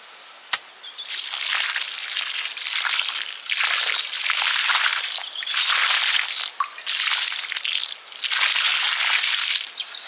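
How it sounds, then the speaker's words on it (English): Water splashes and soaks into soil around a newly planted plant in a food forest garden, coming in repeated bursts of close, hissing spray with brief pauses between. "Now we'll water it in well for the first few weeks"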